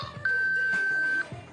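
A single steady electronic beep from an OrCam assistive device lasting about a second, clear and fairly close, with quiet background before and after.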